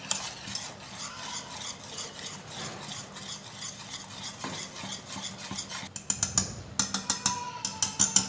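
Semolina batter for spinach-corn dhokla being stirred with a spoon as buttermilk is added bit by bit, steady close scraping and sloshing strokes that turn into sharper, louder rhythmic clinks against the bowl near the end.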